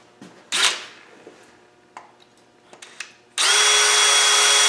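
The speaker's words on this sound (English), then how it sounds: "Like the drill, we'll go a bit deeper." Scattered clicks and handling clatter, then a power drill kicks in with a loud, steady high-pitched whine as it bores into metal on a Land Rover Defender 90 300Tdi during an oil leak repair.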